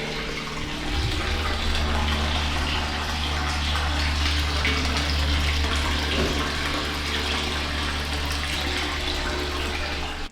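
A pump pushes spring water in through a line, giving a continuous rushing, splashing flow over a steady low mechanical hum that holds at an even level for about ten seconds.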